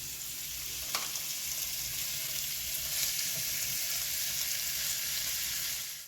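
Bacon crisping in a pan before cabbage is added, a dense even sizzle throughout with a faint tap near the start and no talk.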